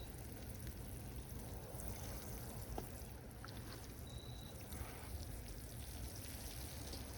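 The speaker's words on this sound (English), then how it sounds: "The water's coming through." Water steadily trickles and drains through bonsai soil in a colander while a lemon cypress is soaked, a soft continuous patter like light rain with a brief faint click partway through.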